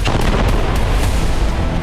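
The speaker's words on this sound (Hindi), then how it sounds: "बेहद ही प्रचंड अंदाज में आईडीएफ खान यूनिस पर गोला बारूद बरसा रही है" IDF shelling and gunfire on Khan Younis, a dense, loud and continuous rumble of blasts and shots with no break, sharper reports rising at intervals over the roar.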